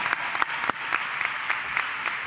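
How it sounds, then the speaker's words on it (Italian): A small audience at a radio event applauds steadily, a dense patter of claps with a few sharper individual hits standing out, no talking over it. "fate sentire il vostro applauso"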